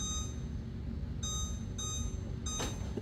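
A kitchen-style timer gives three short electronic beeps as it is set, spaced about half a second apart over a low, steady background hum, with no talking.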